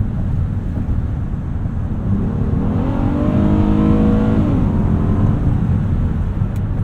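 A 2026 Honda Odyssey Elite's 3.5-liter V6 climbs steadily in pitch as it accelerates, heard from inside the cabin over a constant road and wind hum, then eases off.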